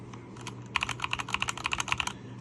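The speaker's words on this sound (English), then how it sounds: "So this is, like I said, another Sky 68 keyboard." Sky 68 mechanical keyboard with red switches being typed on, a close run of bright, clacky keystrokes in quick irregular rhythm after a few sparse taps, with no talking.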